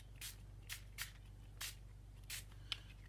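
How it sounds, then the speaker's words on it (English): Five soft, short bursts of alcohol ink sprayed from a spray bottle at irregular intervals, faint and close, over a low steady hum. "I'll add some spray."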